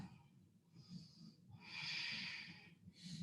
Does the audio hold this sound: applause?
no